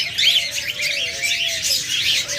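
Big pet birds, budgerigars, cockatiels and lovebirds, chirp and twitter continuously in a dense, bright chorus nearby, with one longer whistled call sliding through the middle.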